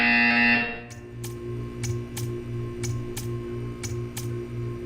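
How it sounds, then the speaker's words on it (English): A steady electronic buzzer in Portal 2 drones low and continuous, pulsing in a regular beat, with sharp clicks ticking at even intervals above it. "You will hear a buzzer."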